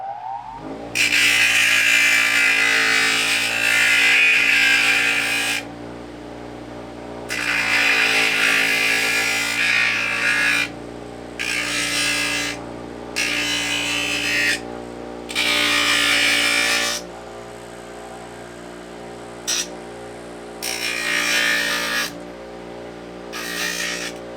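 A power tool grinds down a protruding metal plate while a broadhead sheath is being shaped, loud whining bursts of several seconds each separated by short pauses, close and with no talk.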